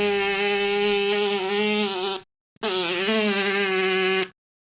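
A human voice imitates a bee's wings vibrating as a beatbox sound, two steady buzzing bursts separated by a short gap, loud and close.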